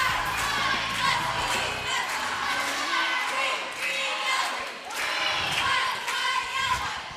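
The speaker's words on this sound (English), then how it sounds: "I had to get the crowd noise from this gym in there." Crowd in a school gym at a high school basketball game, steady roar of cheering and shouting with swells, along with sneaker squeaks and ball thumps, while a voice talks over it.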